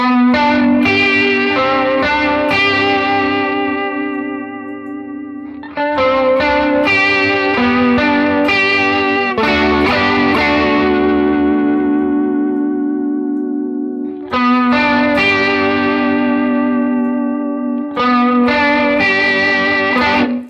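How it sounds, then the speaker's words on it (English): Sustained guitar chords ring out loudly with a wavering, shimmering pitch-modulated chorus with high LFO depth, restruck every few seconds and left to decay. "you can turn up the LFO depth to get even more of a chorusing effect"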